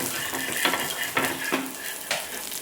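Thalipeeth frying in oil in a pan, loosened and lifted with a metal spatula: a soft continuous sizzle broken by several sharp scraping strokes of the spatula against the pan, close and fairly loud, with no talking.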